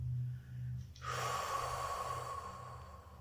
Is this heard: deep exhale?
yes